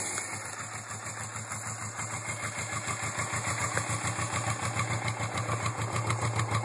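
A 1980 Suzuki GS450 S motorcycle idles on a cold start, not yet fully warmed up, with a steady, close, even rhythmic putter that holds constant throughout, no talk.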